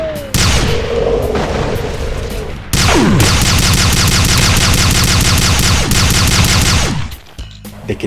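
Rapid volleys of mini rockets and plasma shots from a Commando variant in a Doom mod, dense continuous booming fire with sharp onsets, loud and close, a brief lull near the start before a long sustained barrage that cuts off abruptly.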